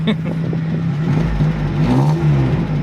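A red Mazda's engine rumbles and revs through its exhaust, loud and close, with a low throaty drone throughout.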